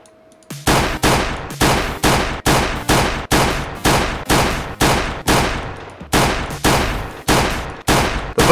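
Steady, evenly spaced gunshots fire in the Roblox game Ice Age 5 Tycoon, about fourteen loud booming reports at a regular rhythm, each decaying before the next, with no voices over them.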